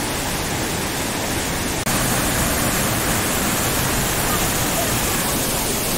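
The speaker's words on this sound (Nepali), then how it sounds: "यो पानी हो, पानीको छिटा चाहिँ यता गइरहेको छ" Lauke Jharana, a waterfall in Nepal, pours and splashes nearby with a loud, steady broadband roar that runs unbroken apart from one tiny dropout.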